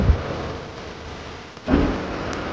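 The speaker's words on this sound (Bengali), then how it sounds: "আসার সাথে সাথেই আবার বৃষ্টি শুরু হয়ে গেল।" A steady hiss of rain at a Darjeeling resort fills the clip, with a low rumbling thump near the middle and the downpour continuing after.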